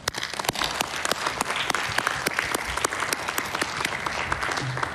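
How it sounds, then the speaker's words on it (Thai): An audience at the 29th APEC leaders' meeting in Thailand claps, a dense, sustained applause with sharp individual claps standing out throughout. "ผมขอเชิญทุกท่านได้ร่วมกันปรบมือให้ความสำเร็จของพวกเราและทีมงานของพวกเราทั้ง21เขตเศรษฐกิจพิเศษเศรษฐกิจเราครับ"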